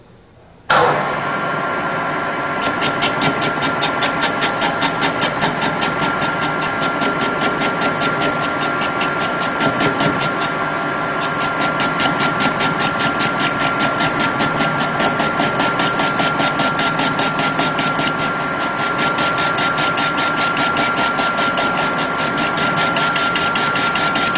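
Metal lathe facing a steel workpiece with an insert tool on an interrupted, saw-cut face, a steady steady-rest setup; continuous loud machine drone with a sustained tonal whine and rhythmic chatter throughout, no talk.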